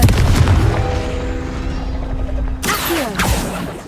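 A booming Confringo explosion spell blasts in the Hogwarts Legacy video game, a loud heavy burst with a ringing tonal tail, followed by a second sharp impact and crackling debris.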